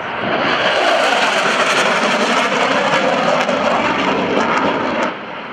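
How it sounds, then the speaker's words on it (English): Vintage warbirds and contemporary fighter aircraft fly in formation at an airshow, a loud sustained roar of engines passing overhead that holds steady and drops off slightly at the end. "The combination of vintage warbirds and contemporary fighter aircraft flying in formation"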